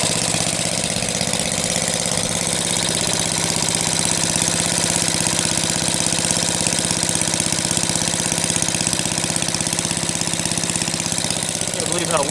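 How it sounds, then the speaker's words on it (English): A 1948 Briggs and Stratton WMB small engine runs steadily and close by, its even, continuous putter holding a constant idle throughout with no pauses. "Good little running engine."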